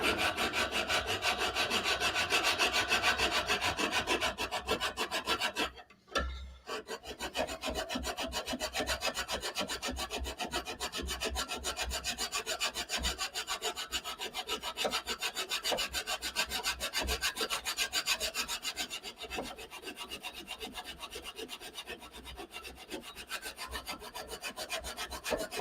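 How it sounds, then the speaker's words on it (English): A first-cut file is draw-filed across a steel stiletto dagger guard, giving continuous close rasping strokes with one brief pause partway through. "The only problem with draw filing with a first cut is that you end up"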